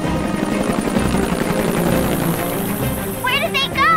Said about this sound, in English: we're ready for takeoff!